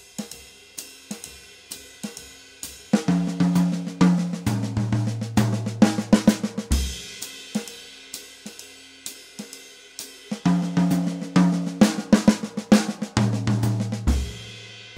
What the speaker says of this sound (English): I'm orchestrating it between the toms and the snare drum